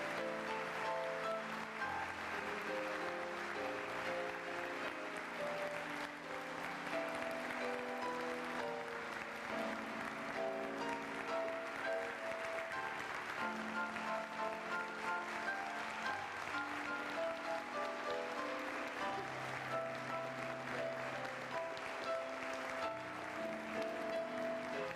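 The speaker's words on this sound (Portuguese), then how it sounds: "Eu gostaria de uma salva de palmas para o Nildo." A church congregation in São Caetano do Sul applauds a worship minister, a steady wash of clapping lasting throughout, with sustained musical tones playing underneath.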